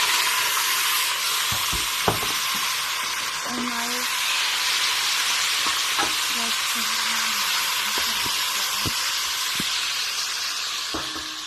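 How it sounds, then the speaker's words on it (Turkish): Meat sizzles steadily in hot oil for tas kebab, a loud continuous frying hiss with occasional clinks and scrapes, while a voice talks quietly and intermittently under the sizzle. "Yağım kızdı. Ben, ben şimdi e, etlerimi ekleyeceğim."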